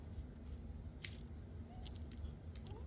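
Cheap wire cutters snip through a stripped wire, giving a couple of faint, brief clicks over steady low room hum, with no talking.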